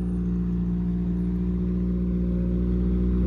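Engine of a car running at a steady idle, with a loud, constant hum close by and no talk.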